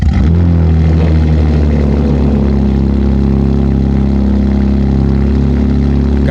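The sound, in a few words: BMW G80 M3 exhaust with IRL 4-inch modular midpipe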